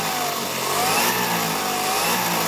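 A brushless 4S-converted Arrma Gorgon RC car accelerates hard, its electric motor giving a loud, close, rising whine with pitch sweeps over a couple of seconds and no voices.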